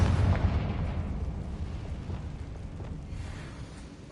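A Confringo spell blast goes off in the video game Hogwarts Legacy. It starts as a loud, rumbling burst and then trails off into a long, dense roar that fades gradually, with no speech over it.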